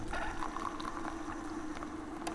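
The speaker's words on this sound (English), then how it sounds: "the coffee brewing in the background" A coffee machine brews with a soft, steady gurgling and bubbling hiss of hot water, faint and continuous throughout, with small irregular pops.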